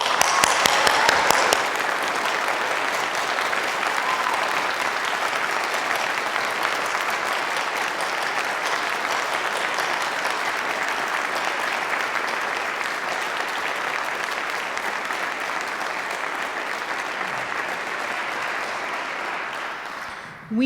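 Sustained applause from a large crowd at a 2021 medical and dental school commencement ceremony, dense and steady for about twenty seconds, then tapering off near the end.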